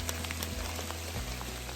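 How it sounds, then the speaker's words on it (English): Rain falling on a wooded New Hampshire stretch of the Appalachian Trail, a steady soft patter with a few closer drips standing out, continuous and fairly quiet with no talking. "It's raining"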